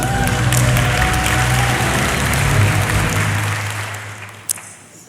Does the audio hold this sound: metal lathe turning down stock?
no